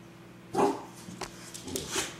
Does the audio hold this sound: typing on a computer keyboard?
no